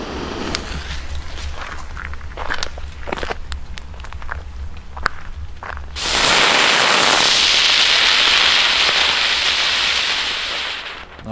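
A Comet Color Spinner ground-spinner firework at a New Year's Eve display: scattered crackling pops give way to a loud, steady hissing roar that holds for several seconds before tailing off.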